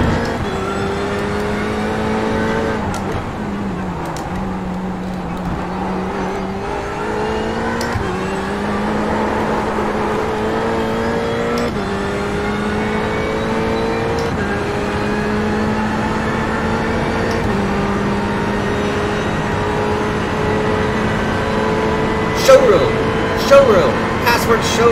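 GT race cars lapping Daytona in a racing simulator game: a steady engine drone rises in pitch through repeated gear changes for the whole stretch, with a voice heard faintly over it.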